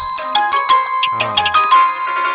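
A telephone rings during a Thai Buddhist dharma radio call-in program, a bright electronic ringtone with repeated chiming pulses, loud and close, with no talk over it.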